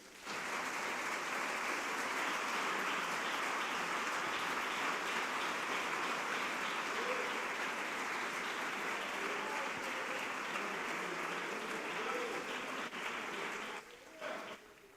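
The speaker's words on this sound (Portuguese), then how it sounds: "Vamos dar uma salva de palmas ao Senhor." A church congregation claps in praise of the Lord at a Portuguese-language service, the dense broadband applause loud and sustained for about fourteen seconds before thinning at the end, with faint voices mixed in.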